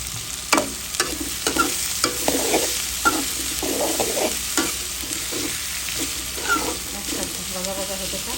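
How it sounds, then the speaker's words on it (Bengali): Chopped tomato frying in hot oil in a pan, stirred with repeated scraping strokes over a steady, close sizzle for a fish curry. "ভাজা ভাজা হতে থাক।"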